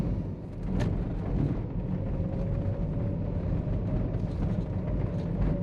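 A Peugeot 306 rolls over a speed bump, heard from inside the cabin as a soft low thud followed by a steady, muffled road rumble.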